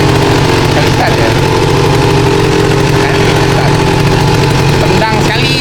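A Honda MBX125F two-stroke motorcycle engine runs loud and close at a fast, steady idle after a kick start. It has a buzzing, rattly tone throughout, with a brief blip near the end.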